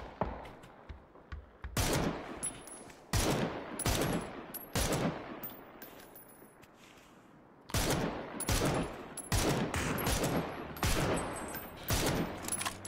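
Gunfire in the battle royale game PUBG, repeated loud close bursts of automatic fire in rapid clusters separated by short pauses, with no talk over it.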